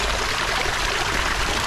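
Warm water pours steadily out into a backyard pool, a continuous close splashing stream with no talk over it.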